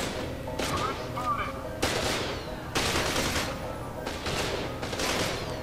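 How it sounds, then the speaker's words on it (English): An auto shotgun blasting in the shooter F.E.A.R. 2 fires several loud, heavy booming shots spaced about a second apart, each with a ringing tail, amid background game noise. "I finally get some auto shotgun ammo. Wow, that's a powerful gun."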